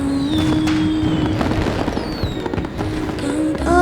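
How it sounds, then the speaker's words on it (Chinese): Fireworks burst repeatedly over a festive night scene in a Qing-era palace drama, loud crackling and popping bangs filling the air with a steady rumble beneath. "我好喜欢这些烟花呀！"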